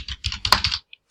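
Rapid keystrokes on a computer keyboard, a short burst of close clicking taps that stops abruptly, followed by one lone tap and silence.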